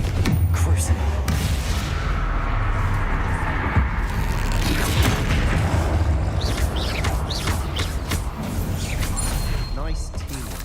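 Confringo and Bombarda spell blasts from Hogwarts Legacy boom and crash in quick succession over dense game combat noise, with a voice calling out spells throughout.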